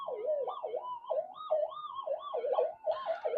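A Minelab GPX-7000 metal detector picking up interference from household power cables gives off a loud, warbling, siren-like electronic wail that rises and falls in rapid repeated sweeps, close up with no talk.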